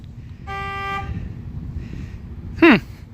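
Chevrolet Corvette C6 horn sounded remotely by key fob, a brief steady honk followed by a sharper, louder chirp, heard from a distance outdoors over low background noise.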